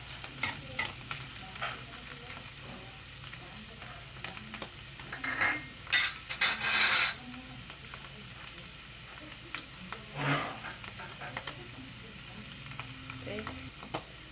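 Garlic sizzles and crisps in a pan as it is stirred, a steady frying hiss broken by scraping utensil strokes and a few louder clatters partway through, with no talking.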